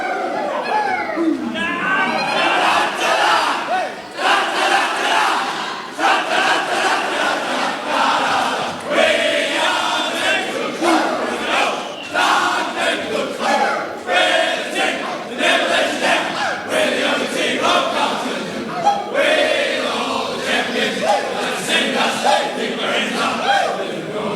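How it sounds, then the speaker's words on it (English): Carlton supporters roar and chant their club song together in an enclosed space after a tight AFL win over Melbourne, a dense, loud and continuous crowd din that keeps rising and falling. "The cheer inside here ricocheting off the walls."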